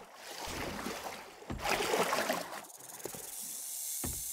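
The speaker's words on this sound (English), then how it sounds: "I hear a snake." A snake hisses as it moves through water in the video game 7 Days To Die, a rough, breathy wash with swells and dips and a short rustling burst near the end; no voices.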